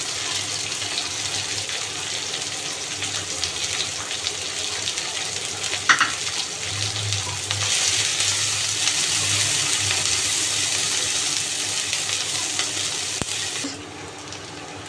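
Onions and green chilies frying in a pan with cardamom and whole cumin, the base for a potato and pangas fish curry, give off a steady, close sizzle with occasional stirring clinks.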